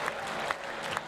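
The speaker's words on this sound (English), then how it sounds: "Very polite clap from Nathan Black" Polite clapping from a small crowd at a lawn bowls match, a steady patter of hands with a few sharper claps standing out, fairly quiet and heard alone.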